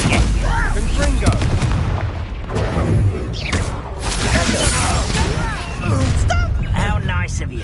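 Blasting spell explosions in a Hogwarts wizarding video game, heavy continuous booms and crackling blasts that fill the clip loudly with a dense, roaring wash, dipping briefly mid-way.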